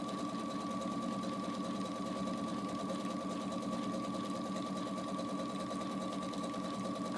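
A sewing machine stitches an embroidered scallop edge hem through thick embroidery, a continuous close mechanical whir with steady rapid needle rhythm and a tonal motor hum throughout.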